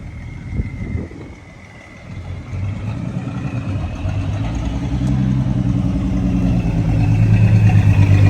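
A car pulling up outside a warehouse, its engine rumbling low and growing steadily louder into a close, throbbing idle, with no talking.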